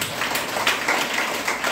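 Audience clapping at a DXN network-marketing meeting in India: a dense, steady patter of many hands for under two seconds, fairly faint and roomy, with no talk over it.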